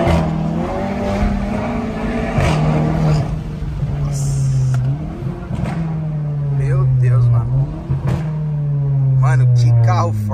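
A Volkswagen Jetta GLI making 310 horsepower at the wheels revs hard and close, its engine note rising and falling in repeated swells with a deep roar, while someone talks excitedly over it.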